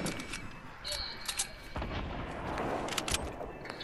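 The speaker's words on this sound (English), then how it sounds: "someone's shooting from above" Gunfire in a Fortnite battle royale match, a string of sharp shots and booming blasts from above, loud and close, with game ambience and a voice faintly under the shooting.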